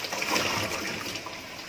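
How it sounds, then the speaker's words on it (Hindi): Ground tomato puree, about a kilo, splashes into onions frying in a pan, giving a brief, close, wet splattering sizzle. "अब इसमें मैं ये टमाटर ग्राइंड किए हुए ये शामिल करूँगी।"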